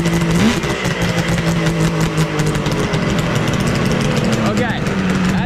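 A 700cc two-stroke go-kart engine revving up from idle, loud and close with a raspy buzzing tone and rising pitch sweeps throughout.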